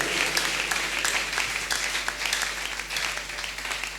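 A church congregation applauds steadily throughout, a dense wash of many hands clapping at close range, with no voices standing out.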